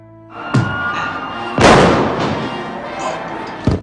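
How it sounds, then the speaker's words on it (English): Fireworks burst over the San Gennaro street festival in a film scene, a series of sharp booms and one big rumbling blast, separated by crackling decay. "walks out into the night while fireworks from the San Gennaro festival light the sky above him"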